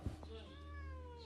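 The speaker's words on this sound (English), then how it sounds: "Meowing." A cat meows in a short, rising and falling call, fairly quiet and close, preceded by a brief thump, with a faint low hum underneath.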